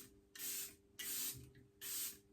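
Charlotte Tilbury setting spray is misted onto a face in three short, bright hissing bursts with brief pauses between them, close and fairly soft.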